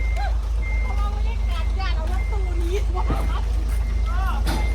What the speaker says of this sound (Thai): ดีแต่ถอยรถตู้ออกก่อน